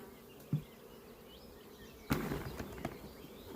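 Honey bees, nursing bees, buzzing in a bucket or small starter box, a faint continuous hum with a few louder thumps and a brief swell near the end.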